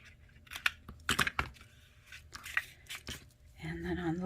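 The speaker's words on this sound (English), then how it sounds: "I'm going to put tear and tape right up to the fold" Tear-and-tape adhesive strip being handled and pulled on a folded paper card wallet: quick, close crinkling and tearing scratches in short clusters, followed by a humming voice near the end.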